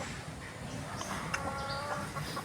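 A red rooster clucking close by in short, irregular calls, with steady outdoor noise underneath and no one speaking.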